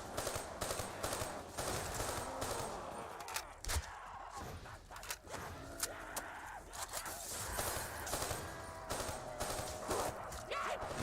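Rapid gunfire in the game Call of Duty Black Ops 3, continuous bursts and repeated shots throughout, dense and fairly close, with game effects and occasional speech.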